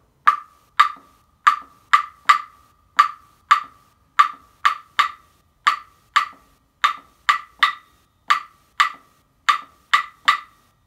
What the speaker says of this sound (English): So rumba clave in 3/2 sounds like this